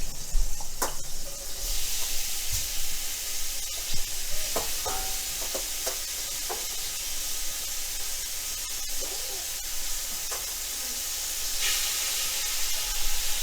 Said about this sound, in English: The oil's nice and hot. We're going to put the onions in first.